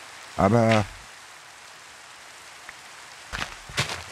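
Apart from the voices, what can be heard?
rain falling in Minecraft video game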